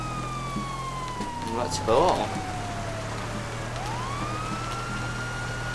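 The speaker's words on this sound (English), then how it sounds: "I'm just gonna put these sirens on." A police car siren wails in the GTA FiveM game, rising and falling at medium distance while rain patters steadily underneath; someone speaks briefly.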